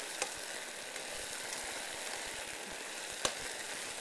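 Cod fillet sizzles steadily in a frying pan on a lowered hob, a soft, even crackling hiss with a couple of faint pops and no talk over it.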